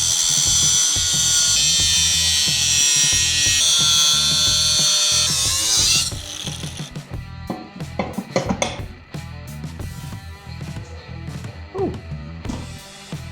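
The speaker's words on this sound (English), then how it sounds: "I'm gonna cut out one side 3 inches deep for each side of the weight rack to fold in." Steel stock for a home-built weight rack is cut with a power tool: a loud sustained high screech for several seconds, then a quieter stretch of metallic clanks and knocks.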